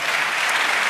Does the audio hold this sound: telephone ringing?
no